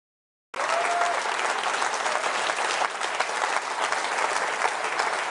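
An audience bursts into applause after a political leadership speech, the clapping starting abruptly from silence and continuing as a dense, sustained roar of many hands at an even level.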